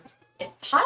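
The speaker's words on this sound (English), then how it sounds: "That's my cat, Andre." A domestic cat gives two short meows close by, the second louder and more drawn out, in an otherwise quiet room.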